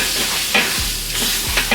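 Ice water poured onto a hot grill grate and worked with a steam brush, giving continuous hissing sizzle with short scrubbing bursts, close and fairly loud.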